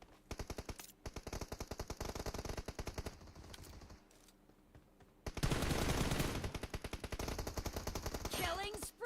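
Rapid automatic gunfire in the mobile shooting game PUBG Mobile, with dense bursts of shots in quick succession, a short lull, then a louder sustained volley, heard under a commentator's voice.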